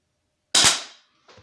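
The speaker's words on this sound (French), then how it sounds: "je compte le bruit de tes coups" A single sharp crack from a Beeman or Zasdar air rifle firing a pellet at a 10 m range, a quick decaying snap followed by a faint thud shortly after.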